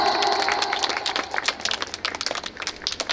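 Guests at a birthday party burst into applause, many hands clapping in a lively, sustained patter at close range, with no talking over it.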